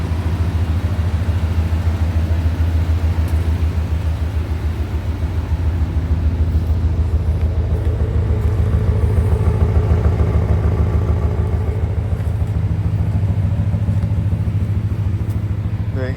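A 1985 Corvette with a rebuilt engine idles inside a barn, giving a steady, loud, low rumble with an even pulse and no voices.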